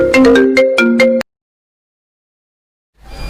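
A loud, close phone ringtone plays a short melodic phrase, cuts off abruptly, and is followed by silence and faint noise.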